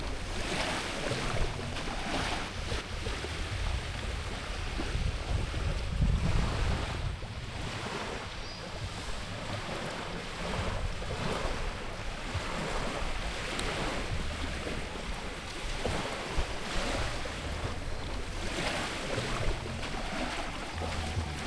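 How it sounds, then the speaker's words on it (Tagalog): Rough sea waves break along a rocky island shore at Balut Island, Davao Occidental, a loud, continuous churning surf mixed with gusting wind noise across the whole stretch. "Sarap sana maligo kaya lang maalon eh."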